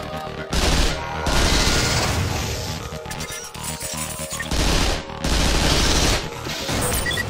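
Weapon fire at a virtual target during training in the Xbox 360 game Vanquish: loud bursts of blasts and crashes with a sustained roaring onslaught, dipping briefly between heavy volleys.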